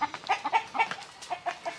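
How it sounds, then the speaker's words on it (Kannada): Chickens at a rural home cluck in a quick series of short, nasal calls, close and clear, with brief pauses between bursts and no other sound. "ನಮ್ಮ ಕೋಳಿ ಎಲ್ಲ ಅಲಾರಾಮ್ ಹೊಡಿತಾವೆ"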